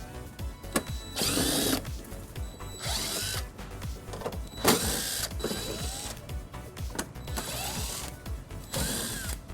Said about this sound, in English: we're going to remove 6 bolts using an 8mm socket